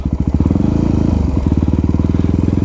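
Motorcycle engine struggling and nearly stalling while a beginner rider climbs a slope, a loud close-up run of rapid, uneven low-pitched firing pulses that chug and stumble without settling into a smooth idle.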